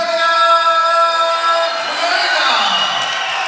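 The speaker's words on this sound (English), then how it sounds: "crowd certainly happy to see Florian up there" A packed kickboxing arena in Germany erupts for local German champion Florian Kröger at Day of Destruction 7. Sustained tones give way to a swelling, loud crowd roar and cheering that fills the second half.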